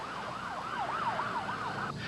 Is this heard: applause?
no